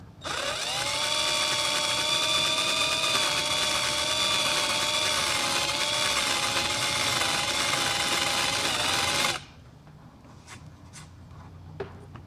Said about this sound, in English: I'm just going to use my Harbor Freight drill with a big drill bit.